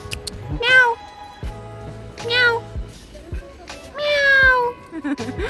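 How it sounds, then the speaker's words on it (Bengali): A leopard cat at Darjeeling zoo meows three times, drawn-out, wavering cries spaced a second or so apart, fairly close, with faint background noise between them. "এই বিড়ালটা কিন্তু সাধারণ বিড়াল নয় এটা লেপার্ড ক্যাট"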